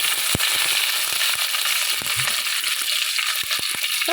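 Mustard seeds pop and splutter in hot oil while a fish curry is started: a continuous frying sizzle broken by scattered sharp crackles and snaps at irregular intervals, close and fairly loud, with no talk.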